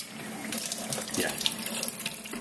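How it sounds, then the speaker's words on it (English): Soft tap water runs steadily into a sink, splashing as hands move under the stream; close and fairly loud, no speech. "So if you want to come over here and wash your hands."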